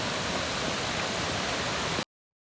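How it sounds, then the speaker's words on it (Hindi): Steady, dense broadband rush of a Himalayan waterfall, loud and continuous, cutting off abruptly near the end with no voices. "पहला झरना हमें अभी मिला है।"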